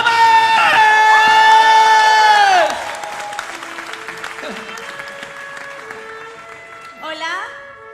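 An indoor audience bursts into loud applause and whooping cheers with sustained shouted voices, then the clapping fades to a lighter patter and scattered calls before a brief final shout.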